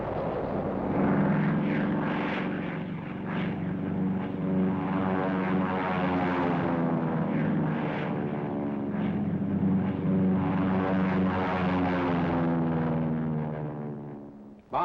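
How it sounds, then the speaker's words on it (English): American P-47 fighter-bombers dive-bomb dug-in Japanese fortifications, heard as a continuous droning propeller aircraft roar that swells and shifts in pitch as the planes pass, loud and sustained throughout. "The attack is spearheaded by dive-bombing American P-47s"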